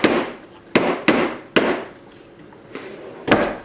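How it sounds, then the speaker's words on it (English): Frozen tomato skins are banged out of a blender container into a trash can in a home kitchen, giving four or five sharp, hollow knocks at uneven intervals, loud and close with no talking. "just bang those skins into the trash can"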